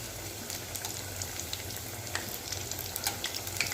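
Lentil fritters deep frying in hot oil, with a dense bubbling crackle and scattered sharp pops over a low steady rumble, fairly close, with no talk.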